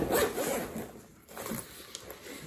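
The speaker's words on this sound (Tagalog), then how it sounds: "Maganda rin naman ang kanyang zipper." Zipper on a newly delivered ordered bag being pulled open, a close rasping run of short scratchy bursts that fades toward the end, with no talk over it.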